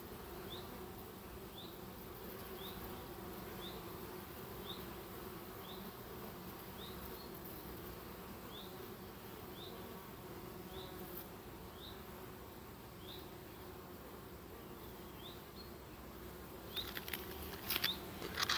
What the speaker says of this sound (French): vous voyez cette abeille là?